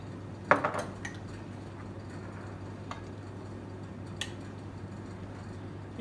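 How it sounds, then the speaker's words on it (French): Small dishes clink and knock a few times early on as orange segments for a Moroccan-style dessert are set into them in a kitchen workshop, followed by faint ticks over a steady low room hum. "On va pouvoir les installer directement dans les petites coupelles"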